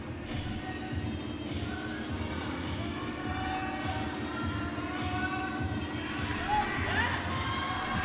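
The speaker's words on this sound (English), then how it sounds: "lots of encouragement from the Japanese crowd" Japanese crowd cheering and calling encouragement at a sporting event, a continuous moderate roar of many voices with scattered shouts, building slightly toward the end.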